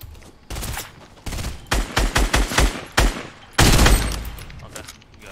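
Bursts of assault rifle gunfire in a video game, several sharp volleys of rapid shots in quick succession with short gaps, loud and close, ending in a longer sustained burst.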